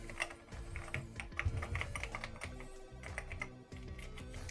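Atari 800XL computer keyboard keys clatter in quick, uneven bursts of clicks, fairly close, with a low steady hum underneath and no voices.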